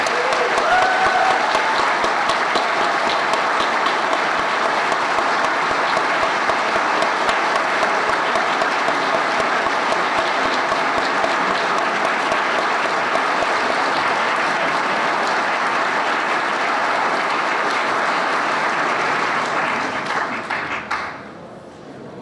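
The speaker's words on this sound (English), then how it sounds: "So let's show our thanks with a robust round of applause for all of them." Sustained, dense applause from an audience at a political party leadership meet-and-greet, steady and loud for about twenty seconds before tapering off at the end, with no talking over it.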